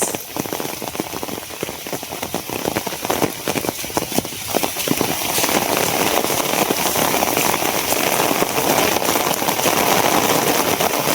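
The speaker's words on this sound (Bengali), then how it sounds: "বৃষ্টি আরো বাড়তাছে।" Heavy rain pouring during a storm, a dense loud hiss of drops hammering surfaces that builds and grows steadier and stronger toward the end.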